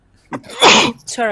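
A single loud, close sneeze bursts out in a room, followed right after by a brief spoken apology.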